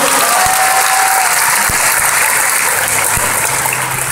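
Steady applause from an audience, a dense continuous clapping that fills the whole stretch at an even loudness.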